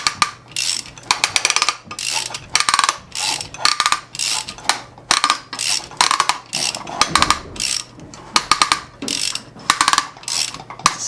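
A puller working a part off a Puch e50 moped engine: a run of repeated metallic clicks, creaks and scraping bursts, close and fairly loud, with short pauses between strokes.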